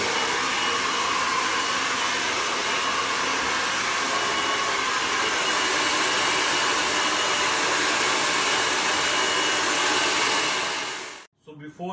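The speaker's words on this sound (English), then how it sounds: "we will straight the complete hair with the flat brush and dryer" Hair dryer blowing steadily while long hair is straightened with a flat brush, a loud continuous whooshing drone that runs unbroken for several seconds before switching off near the end.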